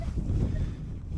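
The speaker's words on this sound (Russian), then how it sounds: "У нас тут ветер достаточно сильный, 7-8 метров в секунду." Strong wind of 7-8 metres per second buffets the microphone in a low, steady rumble, with a faint outdoor wash behind it.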